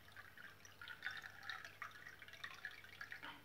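Water pours from a tap into a glass in a kitchen, a faint, continuous trickle with small splashy drips, heard close and alone.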